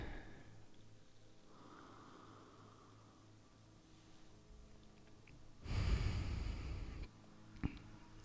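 Someone takes a loud, close sniff of a Lakefront Brewery Small Tank Strong Belgian Ale poured into a tulip glass. One long breathy inhale lasts over a second, followed by a short second sniff, over a quiet room hum.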